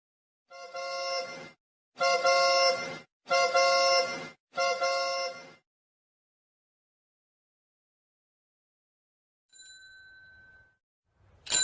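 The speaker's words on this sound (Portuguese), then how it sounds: "nós temos a buzina do automóvel, seria um som grave, e a sinetinha da bicicleta" A low car horn sounds in four long blasts, then after a pause a high bicycle bell gives a brief ring and another tone begins at the very end; no one speaks.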